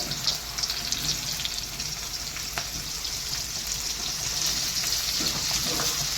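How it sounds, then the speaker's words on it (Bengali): Mushrooms fry in hot oil with a steady, dense crackling sizzle that continues throughout, close up and alone. "তেল গরম হয়ে গেছে মাশরুমগুলো ছেড়ে দেব অল্প ফ্রাই করব"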